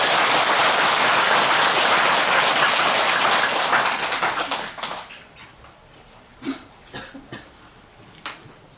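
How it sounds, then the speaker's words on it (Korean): Loud, sustained clapping fills a crowd at a Buddhist temple dharma assembly at Gilsangsa, then thins out and fades, leaving a few scattered claps and coughs in the hall. "감사의 큰 박수 부탁드립니다."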